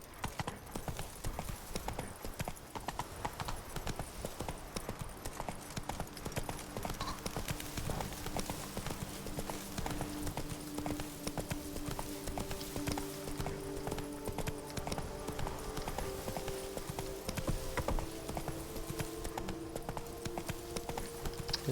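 Horse galloping in the video game Witcher 3, rapid rhythmic hoofbeats drumming steadily and fairly quietly for the whole stretch, with faint game music and occasional voices underneath.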